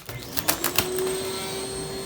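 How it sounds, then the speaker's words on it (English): A household central vacuum system starts with a few sharp knocks and clatters, then settles into a steady, moderately loud motor whine. "This is why I hate central vacuuming."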